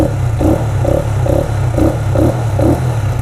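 A Benelli Motobi 200 Evo motorcycle idles on its stock muffler, a steady low chugging with a regular rhythmic mechanical clatter pulsing about twice a second, close and fairly loud, with no talking.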